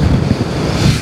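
Strong wind buffets the microphone on a sea beach, with steady roaring gusts and surf rumbling underneath, loud and continuous with no voices.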